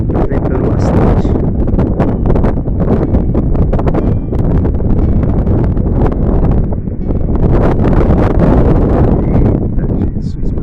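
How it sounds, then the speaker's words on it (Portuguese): Strong gusty wind roaring across the microphone, loud and continuous with surging swells and rustling, no talking. "Tá ventando bastante."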